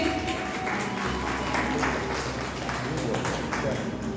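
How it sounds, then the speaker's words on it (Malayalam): An audience at a retirement party claps for the teachers, a dense, steady patter of many hands under a speaker's voice. "Give a big round of applause to the teachers."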